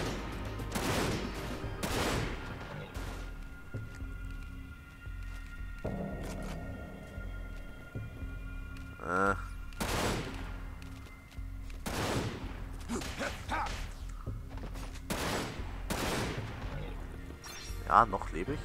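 Bursts of gunfire in Final Fantasy VII Dirge of Cerberus crack out repeatedly, some as rapid volleys and others as single shots, with a few pauses and a voice talking in between.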